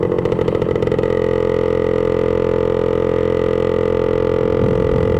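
A 1966 Suzuki Bearcat motorcycle engine runs loud and close, a steady buzzing two-stroke drone with a rattly edge that holds throughout, with no voices.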